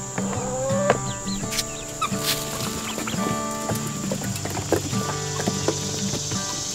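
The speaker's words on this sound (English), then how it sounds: "I'm out here with our flock of chickens." A backyard flock of chickens clucks and murmurs steadily, a dense overlapping chorus of hens close by with occasional louder squawks standing out.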